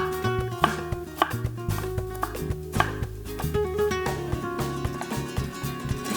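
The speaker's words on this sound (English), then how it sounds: "Chopping the ginger." A knife chops ginger on a cutting board for a fish curry, with steady repeated cuts under prominent music that runs throughout.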